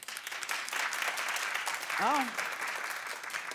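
A studio audience claps steadily throughout, a dense, even wash of applause with a brief exclamation from a voice partway through.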